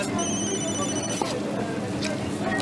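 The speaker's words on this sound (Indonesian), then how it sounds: "Wah, itu telepon siapa weh?" A telephone rings in the cooking game Food Truck Simulator, its repeated electronic bell tones sounding in short bursts over a steady background of game noise.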